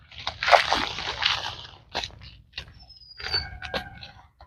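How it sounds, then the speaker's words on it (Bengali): Soil being scooped and dropped into a bougainvillea pot, with a few soft crumbly scrapes and thuds at close range, alone with no talk. "আমি আর একটু মাটি দেই।"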